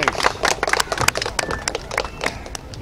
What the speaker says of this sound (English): Big round of applause for Arshad Warsi.